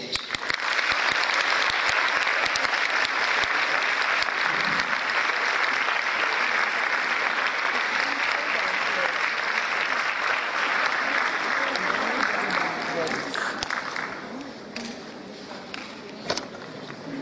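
A festival audience welcoming author Vikram Seth to the stage at the Lahore Literary Festival 2014 with dense, sustained clapping from a large crowd that holds steady and then thins out toward the end.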